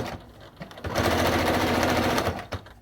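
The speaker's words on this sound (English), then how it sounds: "So I'm sewing very close to the top of the pocket." A sewing machine runs steadily while stitching close to the top edge of a clutch purse pocket, a loud continuous mechanical whir lasting about two seconds after a brief start.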